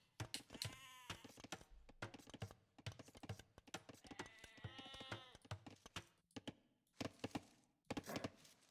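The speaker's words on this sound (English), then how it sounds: "All right, Makuo trying to get some sheep." Sheep bleating in an Age of Empires 2v2 match, repeated game bleats among chopping, clip-clop and other quick in-game effects, faint and dense.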